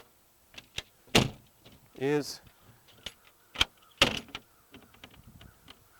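Double cabin door on a 1999 Sea Ray 280 Bow Rider boat being pulled shut, giving a few sharp knocks and latch clicks with a short sliding rumble in between, close by, while someone talks.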